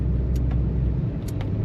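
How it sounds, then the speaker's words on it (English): A car passes on a road in a West Virginia forest after a storm, a steady low rumble holding for about a second before easing off, close by and fairly loud with no one speaking. "I'm gonna get over here for that car to go by."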